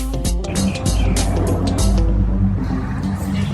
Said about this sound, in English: We can hear all the lovely traffic outside